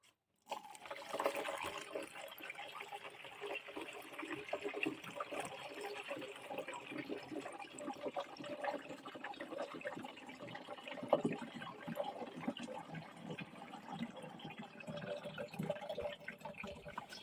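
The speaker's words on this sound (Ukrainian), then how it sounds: "Побуду лити воду і всі решта інгредієнти." Water is poured into a soap mixture that will take the other ingredients. A soft, continuous pouring and trickling runs close by for a long stretch at low volume.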